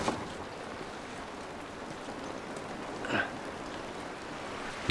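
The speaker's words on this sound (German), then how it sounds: "Dieser Regen ist nicht gut für uns." Steady rain in the video game The Last of Us Remastered hisses throughout, a constant wash of patter with no voices and one brief louder splash partway through.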